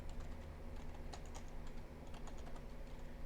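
Terminal commands being typed on a computer keyboard, a steady patter of close keystrokes with a few louder key hits over a constant background hum.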